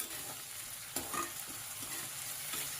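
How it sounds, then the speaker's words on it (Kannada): Potatoes frying with softened vegetables in a pan, a steady sizzle with soft scraping stir strokes throughout, close and even, with no speech. "ಈಗ ನಾನು ಆಲೂಗಡ್ಡೆ ಹಾಕೋತೀನಿ. ಫ್ರೈ ಮಾಡ್ಕೊಂಡ್ಬಿಡಿ."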